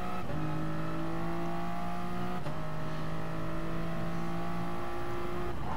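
Race cars at the start of a GT Sport race at Brands Hatch produce a loud, steady engine drone with a gear change partway through, under continuous tire and track noise.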